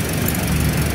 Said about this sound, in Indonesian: Ini mesinnya dalam keadaan hidup